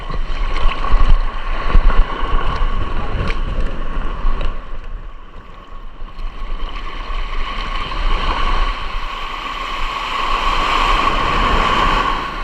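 Strong, choppy waves slosh and slap against a small fishing boat, with a steady motor hum running underneath the whole time.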